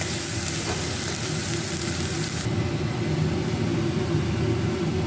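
Soaked moong dal frying in a pan with whole garam masala, a steady, even sizzle with a light, constant crackle and no talking.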